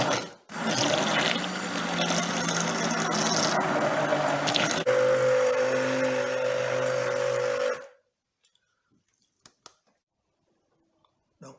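Hydroalcoholic gel solution being mixed with carbopol and a few stabilizer drops gives a close, wet churning and squishing for several seconds, turning to a steadier whirring tone before stopping, then a few faint clicks in near silence.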